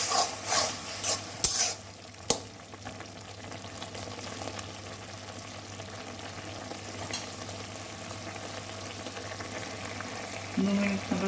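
Jute leaf curry with red and green chilies cooks in a pan, giving a steady, even sizzle throughout. A few sharp clinks of stirring utensils come early, and no one speaks.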